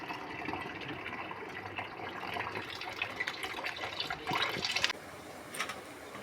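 Boiled noodles for Burmese atho being drained through a strainer, water pouring and splashing steadily for several seconds before cutting off abruptly.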